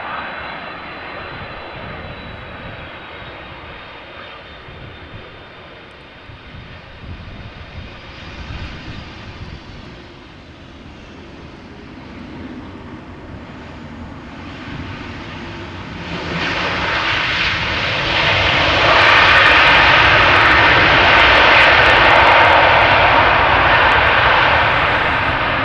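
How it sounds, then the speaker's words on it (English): Delta Air Lines Airbus A330-300 jet arriving at Amsterdam Schiphol Airport, its engine roar building steadily from a moderate rumble to a loud, broad, sustained roar near the end, with no talking. "Delta Airlines Flight 136 arriving from Detroit, A330-300."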